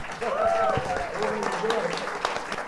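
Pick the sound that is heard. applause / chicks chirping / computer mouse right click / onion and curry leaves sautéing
applause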